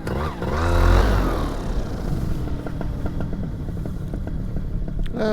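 A paramotor engine on a windy launch field revs briefly, then settles into a steady, close idle rumble with faint clatter.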